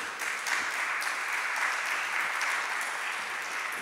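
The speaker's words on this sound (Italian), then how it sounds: "accogliamo con un grande applauso Eric Desordre" A poetry festival audience in Genoa gives sustained, even applause to welcome poet Eric Desordre, the clapping dense and steady throughout with no voices on top.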